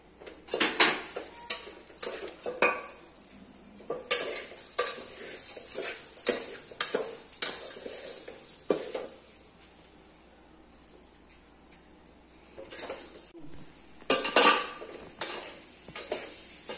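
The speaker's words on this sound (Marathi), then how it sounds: "आता हे असं ढवळत राहायला पाहिजे" A utensil scrapes and clinks against a pan while a coconut, sugar, salt and cardamom mixture for Goan coconut burfi is stirred, with repeated close metallic strokes in irregular bursts and a quieter stretch midway.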